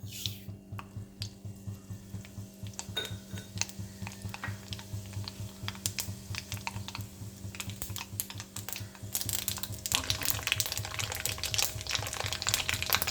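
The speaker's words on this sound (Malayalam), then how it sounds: "നമുക്ക് കടുക് അങ്ങോട്ട് ഇട്ട് കൊടുക്കാം." Mustard seeds splutter in hot oil for nutmeg pickle, a dense, steady crackle of tiny pops over a low background hum that grows busier and louder toward the end.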